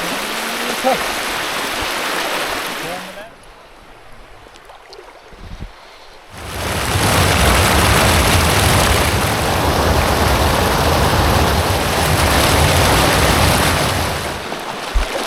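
Heavy floodwater rushes loudly around a flooded house, a steady broad roar that drops away briefly in the middle before surging back.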